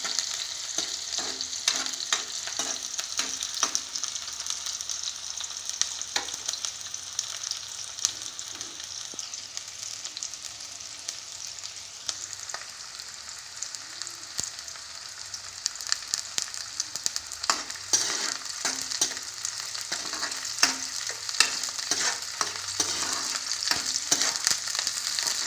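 Onions fry in a pan with a continuous close sizzle, dotted with frequent crackles and pops and occasional scraping stirs, with no talking over it.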